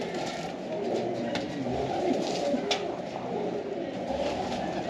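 A pigeon in a rooftop loft coos softly and repeatedly, a faint, steady rolling murmur against quiet background noise.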